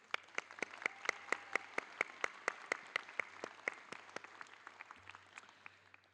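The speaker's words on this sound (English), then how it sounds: "let's give ourselves a round of applause" A small group at the 2023 Penn LPS graduation claps in slow, even, distinct claps, roughly a score of sharp hits that gradually soften and thin out over several seconds.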